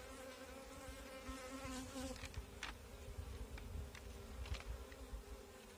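Honeybees in an open hive during an inspection: a dense, continuous buzzing hum with a few louder bees passing close, steady throughout and with no speech.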